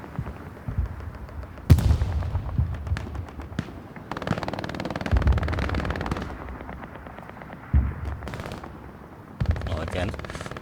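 Gunfire and explosions from a Hell Let Loose match: bursts of machine-gun fire, sharp blasts and a rocket impact sound at mid distance, with a voice talking over the battle.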